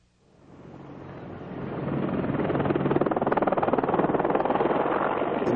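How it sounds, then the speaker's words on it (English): An Apache twin-engine attack helicopter's rotor swells from near silence into a loud, steady, rhythmic thudding roar, close by and running without voices. "Apache is a twin-engine attack helicopter"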